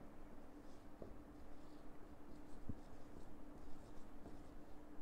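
A teacher writes on a board during a class lesson, soft faint scratching strokes continuing steadily under a low room hum with a couple of small taps.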